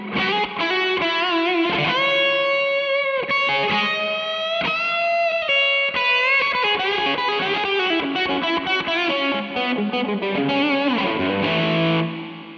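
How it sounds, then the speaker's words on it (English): Distorted electric guitar through an iPhone amp app with gate and reverb effects plays a continuous riff with choppy, abruptly cut notes and a lingering, roomy tail. "we could add something like a gate or even just a reverb"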